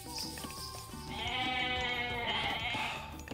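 Goats bleat in several wavering calls over a busy, layered Age of Mythology Retold game soundscape, loud and fairly close.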